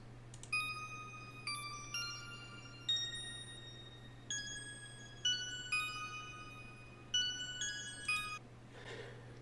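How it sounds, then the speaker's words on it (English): A bright pluck synth in an FL Studio 12 jazz trap beat plays a short melodic pattern of about a dozen crisp, quickly decaying notes with a low steady hum underneath, ending in a brief noisy swish. "pluck synth that sounds something like this."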